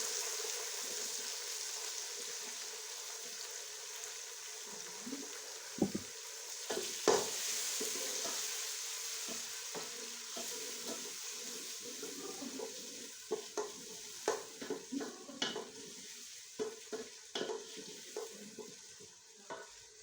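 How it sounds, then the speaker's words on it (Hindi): Tomatoes tossed onto browned onions for a paye gosht dish fry in a pan, a continuous gentle sizzle under repeated scraping stirs and light clatters that grow busier toward the end, close and fairly quiet, with nobody speaking. "अब हम इसमें टमाटर शामिल करेंगे।"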